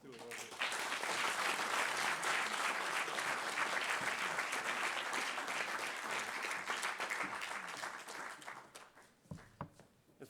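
A large audience at an award ceremony breaks into dense, sustained applause that rolls on for several seconds, then fades to a few scattered claps.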